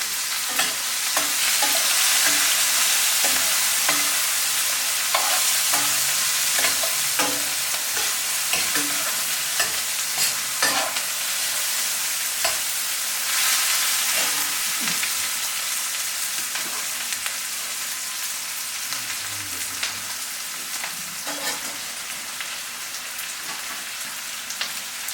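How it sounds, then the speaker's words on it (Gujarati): Ginger and green chilies sizzle and crackle in hot oil over low heat in a home kitchen. The frying hiss stays steady throughout, broken by occasional stirring scrapes and taps, and there is no talking. "આદુ, મરચાં વઘારતી રહેશે. સરસ મજાનો ધીમા તાપે"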